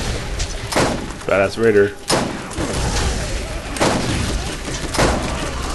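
Gunshots at an enemy in the shooter Borderlands, several sharp bangs spaced over a few seconds, with brief in-game voices and a player talking between the shots.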